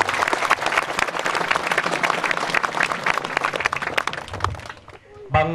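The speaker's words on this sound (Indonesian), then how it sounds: "Boleh kita beri tepuk tangan yang meriah lagi, saudara-saudaraku." A large crowd applauds loudly at an outdoor commemoration marking ten years since Timor-Leste separated from Indonesia, dense sustained clapping and cheering that fades near the end before a voice cuts in.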